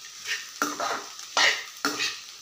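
Crumbled plantain being stirred in a pan for vazhaikkai puttu, with four distinct scraping strokes of a spoon against the metal in a steady rhythm, close and clear, no talking.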